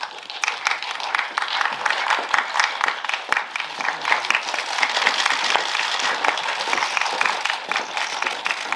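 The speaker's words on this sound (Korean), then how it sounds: "박수로 맞아주시면 감사하겠습니다." Audience applause at a film press conference as the director and actors come in, steady dense clapping from a room full of people that carries on throughout, with little talk.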